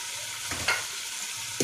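Spices fry with beef and karela in a pan with oil, giving a steady, close hiss. A couple of brief scraping stirs rise over the sizzle.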